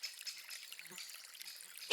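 A soft, continuous hiss of murmuring water from a forest stream runs throughout, faint and even, with a slightly louder swell at the very end.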